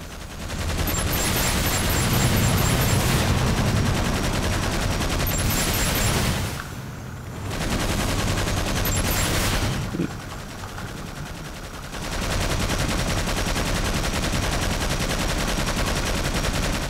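Anti-aircraft guns fire in the Cold War-era toy soldiers video game, loud sustained bursts of rapid gunfire broken by a few short pauses, with no talking.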